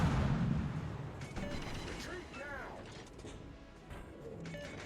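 Naval gun salvos boom from a warship battle game, dense rumbling blasts and crashes layered over a continuous roar with brief whistling shell sweeps, loud and close throughout.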